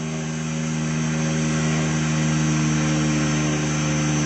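Radio-controlled model helicopter flying slow, controlled circuits, giving a steady, continuous whine with a constant rotor hum, fairly loud and unbroken throughout, with no talking.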